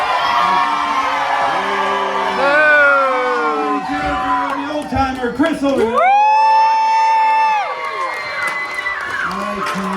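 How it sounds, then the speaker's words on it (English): A crowd at an outdoor lumberjack show cheers and whoops loudly for the competitors, with sustained yells and shouts from many voices, including children, while an announcer talks over the noise. "Your last chance to cheer on your lumberjacks."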